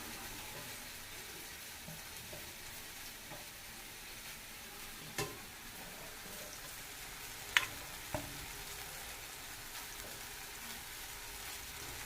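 Masala-coated fish pieces frying slowly on a low flame: a faint, even sizzle and hiss, broken by a few soft clicks and taps.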